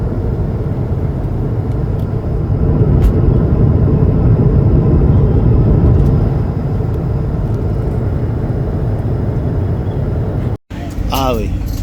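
Steady, loud engine rumble fills the interior of a moving vehicle, with a brief dropout near the end followed by a short high chirp.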